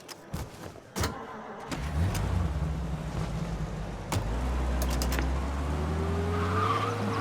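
A car in Mafia Definitive Edition drives off and skids, its rising engine drone growing loud and steady while tires squeal and scrub over the last seconds, with a few sharp clunks near the start.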